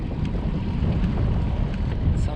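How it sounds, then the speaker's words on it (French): Steady wind rumbling across the microphone while cycling along a Loire levee in France, a continuous low roar with gusts and no talk. "Et puis avec le vent typique."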